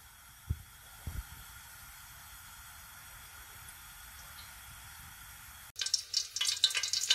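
Oil being heated in a pan before rice is cooked: after a stretch of near silence with a couple of soft knocks, a bright, steady sizzle breaks in for the final second or so.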